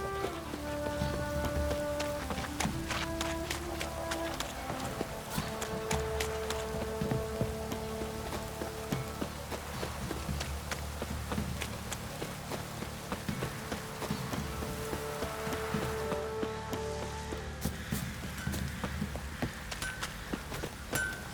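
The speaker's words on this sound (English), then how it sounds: "Oh, it's drizzling." Steady drizzling rain patters continuously on surfaces in the game The Witcher 3, a soft, even hiss under faint musical tones, with no talk.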